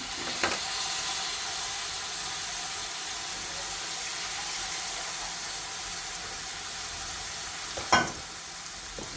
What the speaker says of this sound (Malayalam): ഇനി ഇതും കൂടെ ഒന്ന് നന്നായി ഇളക്കി ചേർക്കാം.